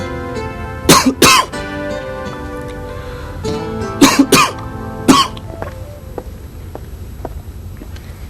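Several pairs of dry coughs from a person with a bad cold, close by, separated by pauses of a few seconds, with quiet room tone in between.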